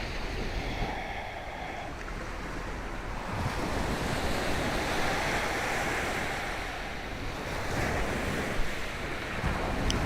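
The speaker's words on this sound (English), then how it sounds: "patterning your mind to sync up to the sound of the ocean" Ocean surf on the Maui, Hawaii shoreline rolls in as a steady, close wash of breaking waves with gusty wind buffeting the microphone, swelling slightly louder near the end.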